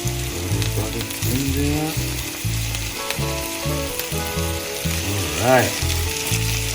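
Chunks of ahi tuna, seasoned for fried garlic shoyu ahi, fry skin side first in a hot pan with a steady, loud sizzle and some pops and rising crackles, while someone speaks briefly over it.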